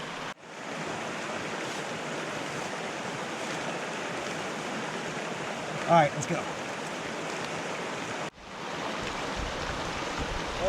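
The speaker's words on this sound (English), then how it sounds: "Coming to another crossing of the creek here." Creek water rushes in a steady, broadband wash at a stream crossing in the Ramsey's Draft Wilderness during a fall backpacking trip, close and constant, with a brief spoken remark midway and a short cut before the flow resumes.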